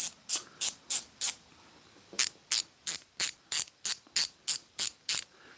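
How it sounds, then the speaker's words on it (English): A ratchet cranked in quick, evenly spaced clicks, a short burst of five then a pause, followed by a longer run of about ten crisp, close clicks with no talking. "Give you guys a little bit of that ratchet therapy"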